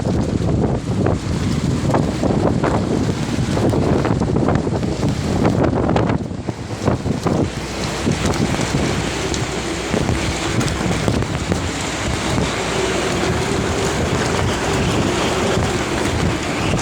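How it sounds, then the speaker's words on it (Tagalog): Strong wind and rain from Typhoon Marcy in Gonzaga, Philippines, roar without pause and buffet the microphone with loud, rough gusts. No one speaks. "Sobrang lakas na talaga ng hangin at ulan."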